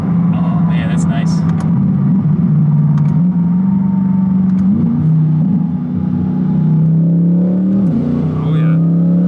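A 900-horsepower twin-turbo V8 C8 Corvette hums steadily at close range, its pitch dipping and rising several times as it downshifts, with a brief voice over the engine.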